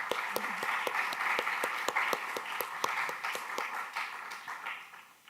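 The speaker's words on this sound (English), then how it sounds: "let's do another big round of applause first for our presenters" A small audience claps for presenters at a science pitch event, sparse and distinct hand claps in an uneven patter with a soft murmur beneath, fading slightly toward the end.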